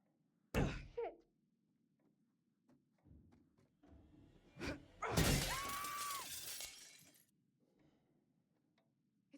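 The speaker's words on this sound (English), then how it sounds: "Could have probably said something before smashing on the mirror" A mirror shatters in The Devil in Me horror game: a sharp thud at the start, then a loud crashing smash of glass with a long bright tinkling spray of falling shards, fading into quiet ambience.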